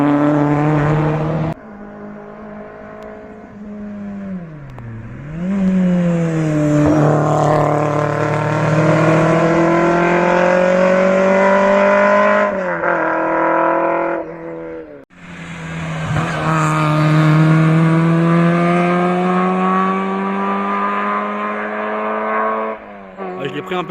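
Rally cars racing on a mountain road during a rally event, engines revving loudly and sweeping up and down in pitch as they approach and pass close by, with gear-shift breaks and a second car following.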